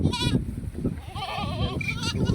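Sheep bleat out in a field, a ewe calling for her lamb with several wavering cries, some near and some farther off, over low rustling background.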